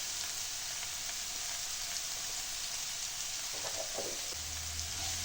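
Tomatoes with rock salt sautéing in a pan make a steady, even sizzle with a few soft stirring scrapes near the end and a low hum underneath.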